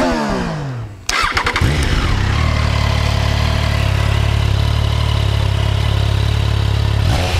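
A Triumph Trident 660 motorcycle engine is cranked and fires up with a sharp catch after a second, then settles into a loud, steady close-up idle with a brief rev blip near the end; no one talks.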